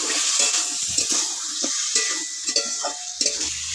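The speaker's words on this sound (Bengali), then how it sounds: "একটু নেড়ে চেড়ে নেবো।" Potato and papad curry being stirred in a pan, with a spoon scraping and clacking against the pan in irregular strokes over a steady sizzle of the frying spices and a little added water, close and fairly loud, with no talk.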